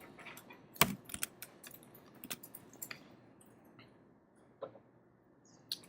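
Someone types in irregular bursts of key clicks on a computer keyboard, close and fairly quiet, with a few louder taps standing out and short pauses between runs.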